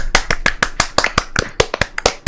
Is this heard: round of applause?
yes